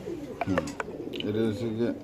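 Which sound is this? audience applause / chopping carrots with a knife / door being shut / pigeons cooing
pigeons cooing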